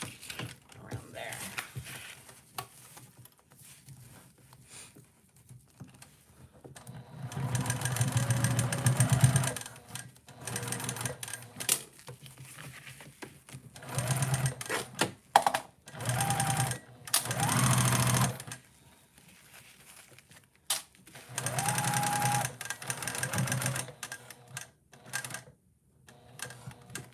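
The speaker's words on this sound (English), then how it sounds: "I'm just gonna sew around there" A sewing machine stitches a fabric heart bag in repeated bursts of rapid, rattling whirring, stopping and starting several times with quiet pauses between runs.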